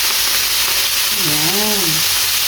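Chicken pieces hitting hot oil in a pan for chicken adobo, a loud continuous sizzle and frying hiss throughout, with a brief low voice-like tone rising and falling midway through.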